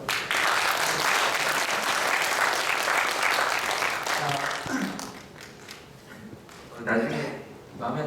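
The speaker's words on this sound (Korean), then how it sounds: "우리 1년 동안 수고했다고 박수하고" A church congregation applauds together at a Sunday service, with loud sustained clapping that gradually thins out and fades, and voices emerging near the end.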